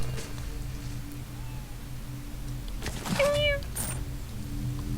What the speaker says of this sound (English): I like it when the kitty meows.